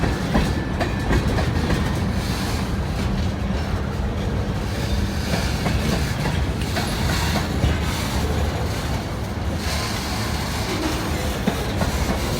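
A CSX freight train rumbles past close by, a loud continuous roll of rail noise with clickety-clack wheel beats and faint squeals running throughout, alone without talk.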